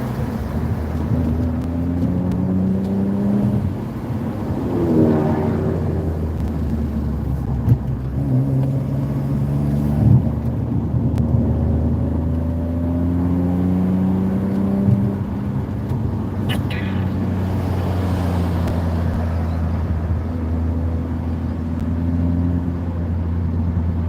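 A car engine hums steadily while driving, a low rumbling drone with a couple of gear shifts and swelling revs, close and fairly loud with no talk.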